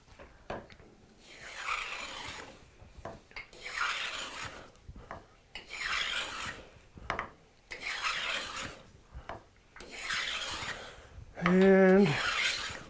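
Repeated rasping strokes of a low-angle hand plane taking a heavy cut in wood, about five long passes at a steady rhythm, followed by a brief metallic ringing rattle.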